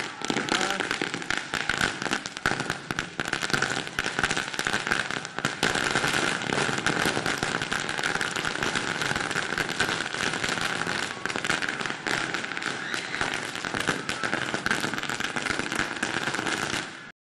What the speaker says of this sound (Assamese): দেখুৱাইছোঁ ফটকা ফুটাই